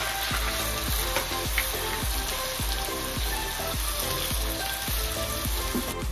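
Chopped onions fry lightly in hot refined oil, a loud continuous crackling sizzle close up, steady throughout with faint rhythmic stirring, no voices.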